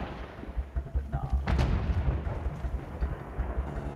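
A grenade detonates in Battlefield 1 with a broad burst around the middle, over a steady rumble of distant in-game gunfire and battle noise.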